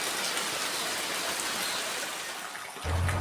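Monsoon rain falls heavily and continuously on a wet day in Kerala, a broad steady wash of drops; a low hum enters near the end while the downpour carries on.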